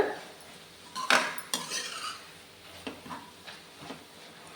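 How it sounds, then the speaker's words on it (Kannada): Fenugreek leaves being stirred and fried in a pan for an egg and methi dish, heard as sharp metal spatula scrapes and clinks against the pan over a faint low sizzle, with no voices. "ಇದು ನೀಟಾಗಿ ಫ್ರೈ ಮಾಡ್ಕೊಳ್ಳೋಣ"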